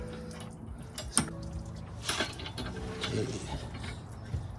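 A plastic piece around a Toyota Venza trailer hitch mount being wiggled back and forth by hand, giving a few close, scattered clicks, knocks and scraping rattles.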